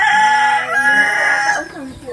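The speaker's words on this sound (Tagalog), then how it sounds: "Kasi mga alaga silang manok." Chickens cluck and a rooster crows loudly nearby, its long harmonic call trailing off into softer clucking at the end.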